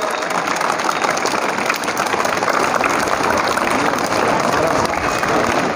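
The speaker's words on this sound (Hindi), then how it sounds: "ज़ोरदार तालियां बजाइए" Schoolchildren at a high school clap loudly together, a dense, continuous crackle of many small hands held at a steady, close, strong level throughout.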